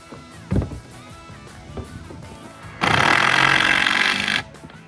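A power driver sinks a 1-inch number 12 screw fitted with a washer into a wooden pallet, giving one loud, steady whirring burst of about a second and a half that ends abruptly, with a few quieter knocks and clatter before it.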